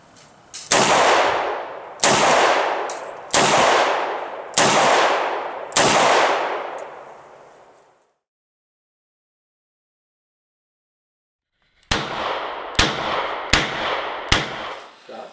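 A Ruger LCR 9mm revolver fired off-handed at an outdoor range: five loud, close shots spaced about a second and a half apart with booming decay, a long silence, then a faster string of shots.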